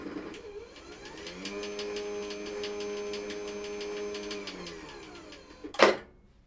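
Garage door opener motor run through a universal wireless remote, a steady mechanical hum with a rhythmic ticking drive that carries for several seconds and winds down, ending in a sharp louder clunk near the end.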